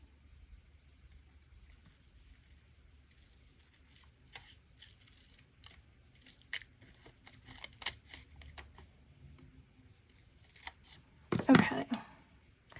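Scissors snip paper for a Happy Planner thank-you page in a quiet craft setting, a series of short crisp cuts spread through the clip, ending in a louder rustle of handled paper.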